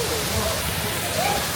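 A waterfall at Disney's Blizzard Beach water park produces a steady, loud rushing hiss throughout, with faint voices murmuring underneath.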